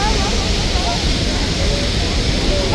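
Niagara Falls roars as a loud, unbroken wall of rushing water heard up close from a tour boat, with indistinct voices partly buried in the din.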